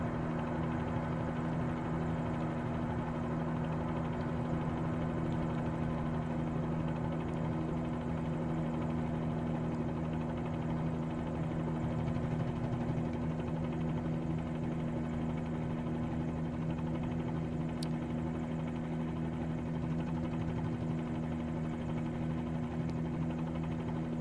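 A Bell 47G helicopter in Microsoft Flight Simulator coming in to land, a steady, low droning rotor and engine hum holding an even, moderately quiet level throughout with no break.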